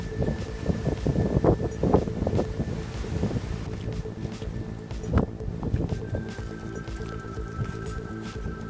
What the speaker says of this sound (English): It's very windy and very cold.